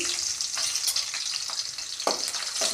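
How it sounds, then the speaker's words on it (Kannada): Steady hiss of crushed garlic sizzling in hot oil for tempering, with occasional scraping clicks from a utensil stirring the pan; no voices. "ಜಜ್ಜಿಟ್ಟಂಥದ್ದು ಬೆಳ್ಳುಳ್ಳಿಯನ್ನು ಒಗ್ಗರಣೆಗೆ ಹಾಕ್ತಾ ಇದ್ದೀನಿ ರೀ"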